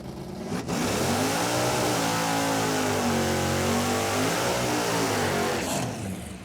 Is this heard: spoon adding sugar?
no